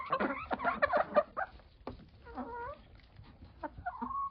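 Old hens cluck in short bursts and drawn-out calls on a hot day, fairly close, with brief quiet gaps between clusters of clucks.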